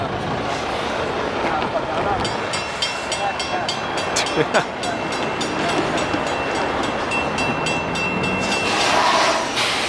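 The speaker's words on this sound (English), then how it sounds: "Another coal train." A coal train rumbles past steadily in Marion, Ohio, with rhythmic clacking of wagons over the rails and a high squeal, while people talk nearby.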